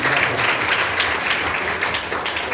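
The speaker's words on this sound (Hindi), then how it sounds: "एक बार जोरदार तालियां" An audience at a school quiz competition claps for the organisers, a strong, continuous burst of many hands that stays loud and even throughout.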